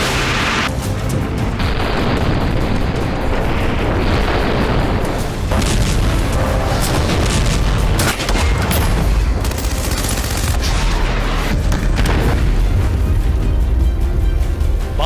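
Heavy artillery blasts and booming explosions from Russian shelling in Ukraine, loud repeated impacts and rumbling fire in a dense, sustained barrage.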